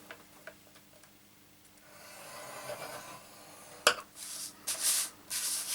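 Cardstock being scored for a paper Christmas lantern: soft scraping and rubbing strokes, quiet at first, then louder rasping passes with a sharp tick near the middle, close and alone without talk.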